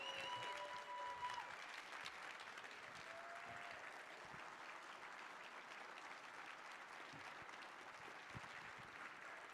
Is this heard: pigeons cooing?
no